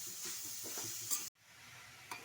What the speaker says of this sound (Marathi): गाजर त्याच्यामध्ये घालून परतून घ्यायचं आता हे चांगलं मिक्स करून घ्यायचं